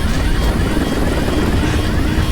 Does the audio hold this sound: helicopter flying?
yes